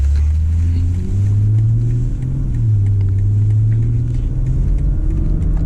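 A 2020 BMW X3 M40i heard from inside the cabin as it accelerates, with a loud steady engine drone and road rumble rising slightly in pitch, no talking.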